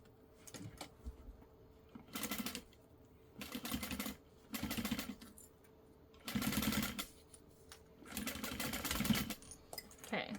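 A sewing machine stitches a zip wallet in several short bursts of whirring, each lasting about a second, separated by quiet pauses with faint clicks.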